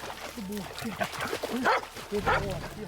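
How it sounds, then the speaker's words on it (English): A cadaver dog searching for a body in water, sniffing and whimpering with short yips and whines close by, mixed with people talking throughout. "They're a type of cadaver dog to find bodies in the water."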